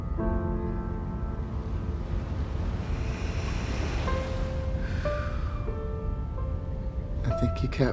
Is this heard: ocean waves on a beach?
yes